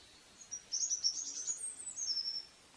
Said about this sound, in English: Birds are still singing, which is a positive thing.